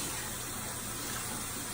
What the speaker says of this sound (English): And then you're going to rinse, keeping it in a downward again.